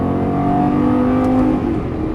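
A Lamborghini Gallardo LP550-2 pulls hard on a race track, its engine note rising in a steady, loud, smooth climb with a faint whine over the top.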